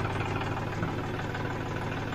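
A tractor diesel engine idles after a cold morning start, a steady close mechanical chug with a slightly uneven, knocking rhythm and no talking.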